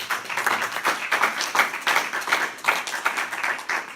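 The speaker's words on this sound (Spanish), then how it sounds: "Un aplauso para aquí." An audience at a postgraduate seminar session claps, giving a lively, uneven round of applause with bursts of overlapping hand claps.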